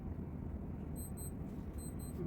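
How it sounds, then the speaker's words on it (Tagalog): A wristwatch alarm beeps in two short bursts of high, thin tones, repeated after a pause, faint over a steady low background rumble. "nag-alarm na yung relo ko"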